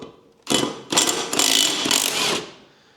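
A ratchet clicks and grinds loudly and up close for about two seconds while a dull, never-sharpened blade is being removed, with short pauses between pulls.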